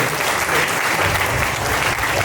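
An audience at a strength and fitness event breaks into a big round of applause, dense steady clapping from many hands, loud and continuous throughout with no pauses.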